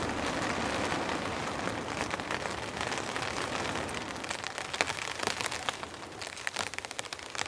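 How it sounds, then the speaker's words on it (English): Light rain falls on a cold, windy mountain campsite as a steady, dense patter of drops hitting surfaces, continuous and fairly close, with no voices. "There's a few spits of rain, could turn to snow"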